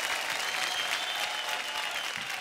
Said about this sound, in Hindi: गुड्डे और गुड़िया के लिए तालियां।